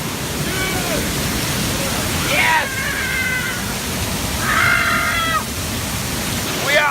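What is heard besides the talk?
waterfall rushing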